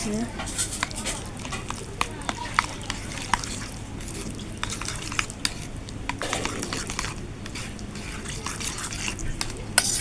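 A spoon mixes egg and coriander leaves into a soft dough mixture, producing repeated wet squishing and light scraping clicks at close range under ongoing talk.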